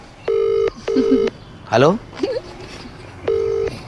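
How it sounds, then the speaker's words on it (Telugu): Phone ringback tone of an unanswered call, three long repeated tone bursts with pauses, close and clear, with a voice speaking briefly between rings. "అదే రింగ్ టోన్"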